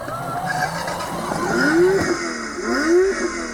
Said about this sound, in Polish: Samochód co chwilę odpala i gaśnie